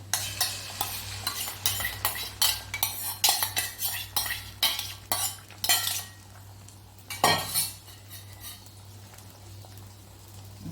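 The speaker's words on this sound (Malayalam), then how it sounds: "ഇനി അതിലേക്ക് നമുക്ക് ഈ മുട്ട ഒഴിച്ചു കൊടുക്കാം ഇനി ഇതൊന്ന് പൊരിച്ചെടുക്കാം" An egg frying in coconut oil in a pan, with a quiet sizzle under a rapid series of close metallic clinks and scrapes as a utensil stirs against the pan, thinning out toward the end.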